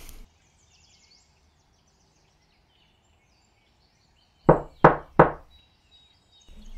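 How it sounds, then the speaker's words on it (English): Three quick, loud knocks on a door, evenly spaced, come after a long near-silent stretch, with nothing else around them. "Knock, knock."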